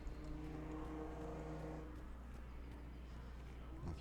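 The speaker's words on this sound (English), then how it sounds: "Loud cars outside." Low, steady engine rumble with a droning hum from cars passing outside in the video game Mass Effect 3, continuous at moderate volume with no voices.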